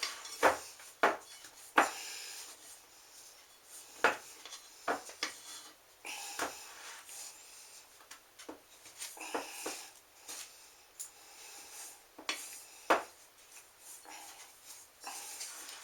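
Cream cheese icing ingredients being mixed together in a bowl, a series of irregular close knocks and scrapes of utensil against the bowl, fairly quiet with short pauses between strokes.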